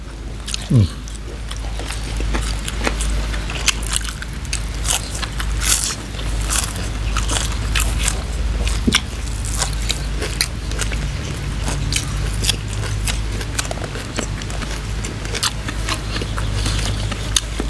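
Close, wet chewing and crunchy bites of Thai Isan pork sausage with crackling mouth sounds, steady throughout, with faint voices in the background.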